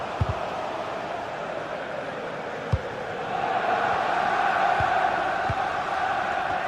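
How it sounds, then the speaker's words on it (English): Stadium crowd noise from a football video game, a steady broadband roar that swells louder midway through, with a few sharp thuds scattered across it and no clear speech. "the crowd is certainly trying to motivate the team to push them forward to get the equaliser."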